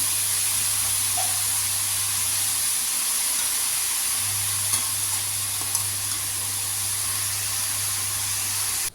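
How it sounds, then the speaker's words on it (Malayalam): Four large onions, sliced lengthwise, fry in oil in a pan for beef biryani: a constant, loud, hissing sizzle runs close throughout, with a low steady hum beneath and no speech. "നാല് വലിയ സവാള നീളത്തിൽ അരിഞ്ഞതാണ് ഇത് നല്ല രീതിയിലൊന്ന് ഫ്രൈ ആയിട്ട് വരണം"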